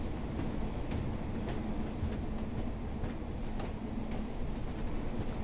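Steady, loud running noise from a BR Class 142 train on the Blackpool Branches in Train Sim World 4, with repeated clickety-clack beats as the wheels cross rail joints.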